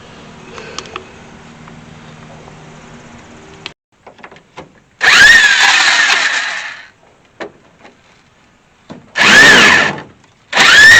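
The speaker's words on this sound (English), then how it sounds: "So I'm using this Craftsman rounded nut extractor I got, and it works pretty good." Craftsman rounded nut extractor working rust-damaged bolts loose on a 1964 Ford Falcon, driven by a power tool in loud whirring bursts of a second or two, separated by clicks, taps and low background hum.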